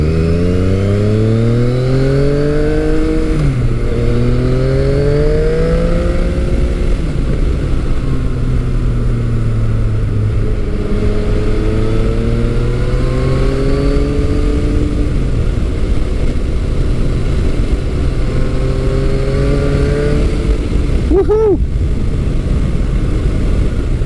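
A Yamaha FJ-09 motorcycle engine revs hard and loud through repeated rising sweeps as the bike accelerates and shifts, each pull climbing in pitch before dropping, with a brief burst near the end.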